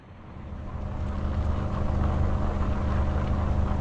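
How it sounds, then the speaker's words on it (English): An engine approaches from behind, its low, steady rumble swelling gradually from moderate to loud and then holding, with no voices. "heard the sound of an engine coming up from behind"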